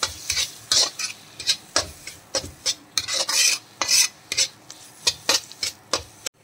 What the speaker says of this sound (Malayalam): ഇനി ഇതെല്ലാം നന്നായിട്ടൊന്ന് വഴറ്റി യോജിപ്പിക്കാം.